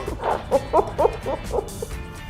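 A dog gives a run of short barks and yips in quick succession, fairly close, over a faint background hum.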